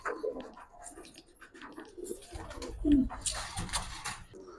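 A pair of purple-necked pigeons coo up close, a low throaty burst rising over faint rustling and small handling noises.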